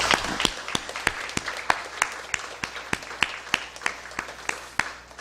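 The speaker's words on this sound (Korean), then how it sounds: "박수하겠습니다." Church congregation clapping together in a steady, fairly even rhythm of sharp claps during a worship service, moderately close, with no talking over it.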